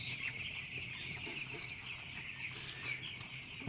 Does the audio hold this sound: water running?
no